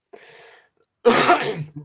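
A single harsh cough bursts out close by after a brief faint breath, loud and short.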